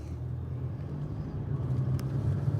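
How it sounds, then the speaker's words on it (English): Car driving along a road with eight people aboard, a steady low engine and tyre rumble from inside the cabin, continuous and moderately quiet, with no talk. "So we're just driving."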